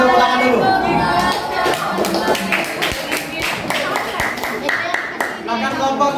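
Clapping erupts from a classroom audience after a group presentation, a burst of uneven claps that thins into scattered individual hand claps and taps, with voices talking over it.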